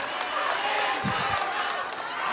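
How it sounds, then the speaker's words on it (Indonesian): An audience at a presidential candidates' debate applauds, a dense, even wash of clapping from a large hall that holds steady throughout. "Sekarang boleh saya kasih waktu untuk berikan tepuk tangan bagi ketiga calon presiden."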